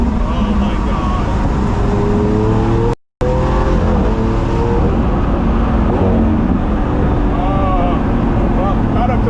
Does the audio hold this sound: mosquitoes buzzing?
no